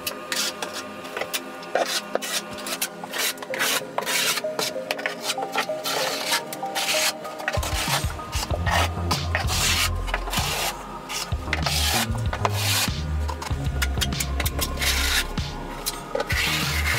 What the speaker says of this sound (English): We spread the mortar with the V-notch trowel.